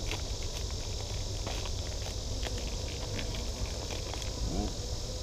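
Honey bees in a brood box hive buzz in a dense, continuous hum during a Formic Pro mite treatment, with faint handling clicks and knocks scattered through the drone.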